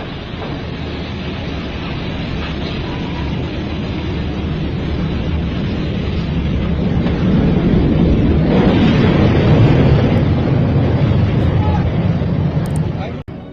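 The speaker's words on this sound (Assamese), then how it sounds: "কালি সংঘটিত হোৱা ভয়ানক বিস্ফোৰণ আৰু অগ্নিকাণ্ডৰ এটা ভিজুৱেল চাই লওঁ আহক" Gas blowout and fire at the Baghjan oil well in Assam, heard as a continuous loud, dense roar that swells gradually and stays powerful before cutting off abruptly.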